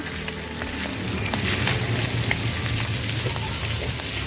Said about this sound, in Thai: แล้วก็คั่วเส้นใหญ่ให้หอมค่ะ